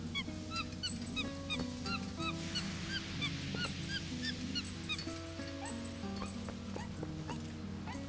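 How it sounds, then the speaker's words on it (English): A dog in Zelda: Twilight Princess HD barks and whimpers repeatedly, a string of short yips and whines over steady game music and ambience. "Dog."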